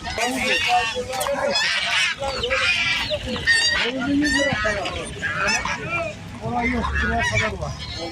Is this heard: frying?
no